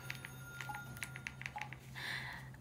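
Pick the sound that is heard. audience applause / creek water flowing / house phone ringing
house phone ringing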